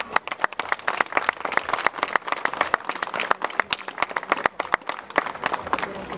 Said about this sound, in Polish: jeszcze raz naprawdę duże, duże brawa.